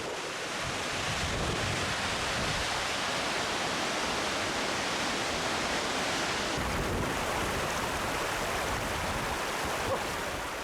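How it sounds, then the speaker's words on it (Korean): A waterfall of glacial meltwater in Alaska, near Worthington Glacier, roars as a steady, dense rush of falling water, loud and unbroken throughout with no voices. "빙하에서 녹은 물이 흘러내려 폭포를 이루고 있다."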